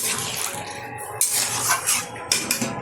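A spoon scrapes and clinks around a pot of sambar dal while water gets added. The clatter and watery sloshing are loud, close and continuous, with sharper strikes at a few points.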